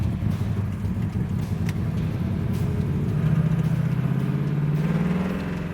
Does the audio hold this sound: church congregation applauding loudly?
no